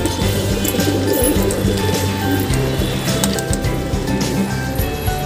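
Domestic pigeons coo continuously nearby, soft layered cooing over a busy, dense background.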